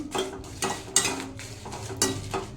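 Chillies and spices being dry-fried without oil in a pan while stirred, producing rhythmic rustling scrapes and a few clinks of the spoon against the metal, close and alone.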